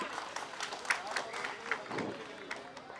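Applause from the crowd at a political speech by a Bahujan woman leader in Delhi, scattered clapping and crowd noise of moderate loudness, with a voice speaking over it.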